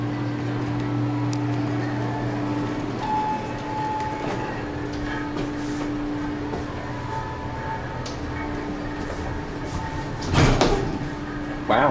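Montgomery hydraulic elevator doors at a Macy's department store slide open and closed over a steady low hum, with a brief clunk near the end and faint room noise.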